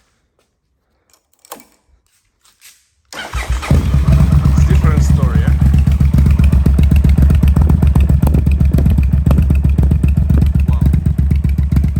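Yamaha TDM 850 motorcycle with the exhaust baffle removed, running essentially straight pipe, bursts into a loud, raw, steady idle and rev after a few quiet handling clicks, with brief voices heard over it.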